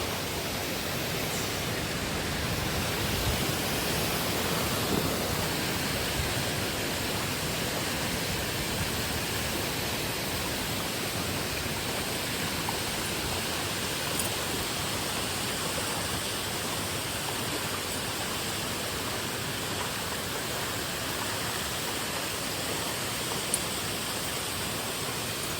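A village waterfall near Indalwal in Nizamabad, with steady broadband rushing water roaring continuously and evenly throughout, fairly loud and close, with no voices.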